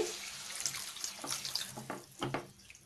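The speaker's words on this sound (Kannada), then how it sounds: "ಒಂದು ಸ್ವಲ್ಪ ನೀರು ಸೇರಿಸ್ಕೊಳ್ಳಿ" Water runs and splashes steadily into a pan of mixed bitter gourd gojju ingredients for a few seconds, a close, continuous pouring sound with small gurgles.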